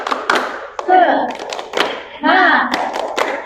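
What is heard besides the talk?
group rhythmic clapping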